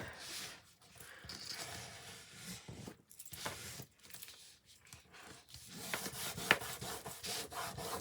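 Hand rubbing on a handmade Christmas craft card, with a papery scrubbing texture that comes in irregular strokes and pauses, close and fairly quiet.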